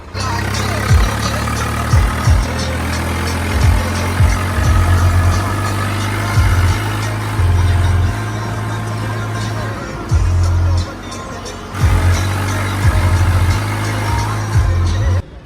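A loud Swaraj 855 tractor engine runs steadily throughout with deep low rumble and repeated thumping pulses, while voices talk over it.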